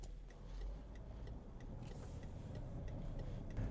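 A BMW 535i E60 pulling away, a low engine rumble with soft road and cabin noise, fairly quiet and steady, with faint ticking clicks scattered through.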